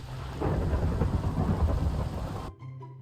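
A Minecraft thunderstorm summoned by a weather spell, with a deep rolling thunder rumble over steady rain, loud and sustained before cutting off abruptly.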